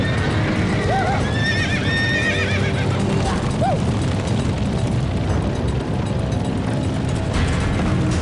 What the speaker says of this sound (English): stampede